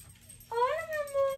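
A small pet dog lets out one drawn-out, high whimper that starts suddenly, wavers and falls in pitch, close and clear over a quiet room.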